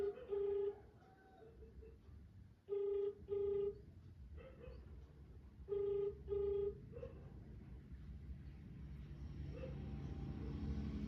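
A phone ringing tone repeats in paired bursts three times with gaps between, then stops unanswered, leaving low rumbling background noise.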